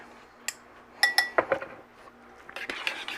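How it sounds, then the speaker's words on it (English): A metal spoon stirring horseradish cocktail sauce in a bowl, several light clinks and scrapes in a short irregular cluster, close and clear, with no talk. "Give it a mix."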